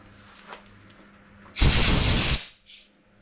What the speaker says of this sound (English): we shall blow it out with the air hose